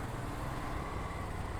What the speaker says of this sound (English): You see this traffic?